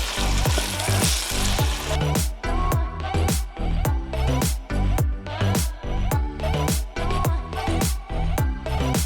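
Rice with red kidney beans and seasoning sizzles in a pan while a utensil stirs it. There is a loud, steady frying hiss, broken by rhythmic scraping strokes roughly twice a second, with no voice.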